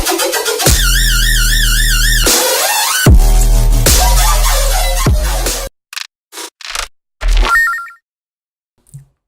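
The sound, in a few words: hybrid trap 404 synth screech lead made with Serum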